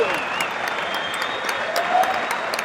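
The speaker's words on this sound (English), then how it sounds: "The crowd goes wild." At a jiu-jitsu match at the European Championship, a crowd applauds and cheers loudly and continuously, a dense wash of clapping with shouts mixed in.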